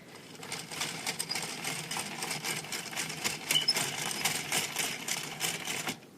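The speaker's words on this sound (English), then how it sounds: "flipping the switch to flat panel knitting and then turning the crank and finding out where it stops" Turning the crank on an NSI knitting machine set to flat-panel knitting produces a rapid, rhythmic mechanical clatter. It is close and moderately loud and runs steadily for about six seconds before stopping.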